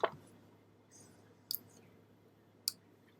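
A computer mouse clicks three times during a craft design session on a Brother Scan N Cut setup: sharp, close, isolated clicks spaced over a few seconds against a quiet room background.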